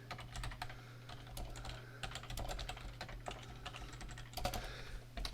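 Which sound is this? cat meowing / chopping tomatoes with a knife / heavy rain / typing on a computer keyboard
typing on a computer keyboard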